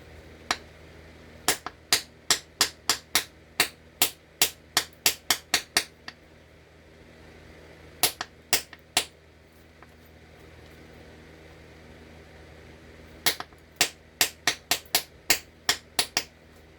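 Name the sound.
flintknapping, striking stone to remove a crumbly concretion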